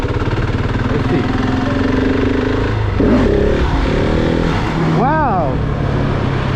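A motorcycle engine drones loudly and steadily while the rider attempts a wheelie in a stunt lot, with rising pitch sweeps near the end as the throttle is blipped; someone talks over it.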